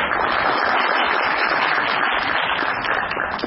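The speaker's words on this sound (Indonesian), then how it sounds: "Saya belum minta tepuk tangannya pagi hari ini untuk semangatnya itu" A student debate audience at IPDN and Universitas Negeri Jakarta bursts into dense, continuous applause, loud and steady throughout, with no talking over it.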